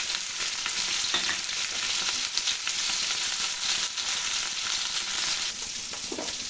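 Ginger garlic paste, turmeric and chili sizzle steadily in a hot pan, a dense continuous frying hiss with faint stirring scrapes, close and alone.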